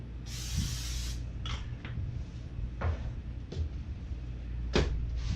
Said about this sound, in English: Spray it with a little bit of Pam.